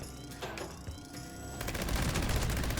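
A Gauss minigun fires in Fallout 76, with rapid crackling bursts that build into a continuous, loud stream of gunfire.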